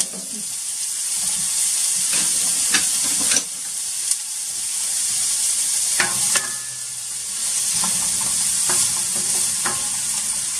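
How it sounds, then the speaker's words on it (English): Chopped onion fries in warm oil with a continuous close sizzle and hiss, punctuated by occasional sharp clicks and scrapes of stirring, with no talk over it. "my oil has been warming up, and to that I'm going to be adding my chopped onion"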